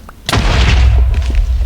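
A loud video-game explosion bursts in with a sharp boom, then a dense rumbling roar that holds strong for over a second, with faint scattered debris.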